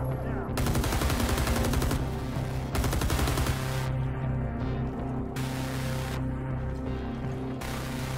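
Sustained automatic gunfire in a milsim video game, loud and close, rattling in long bursts separated by brief pauses over a steady noisy background.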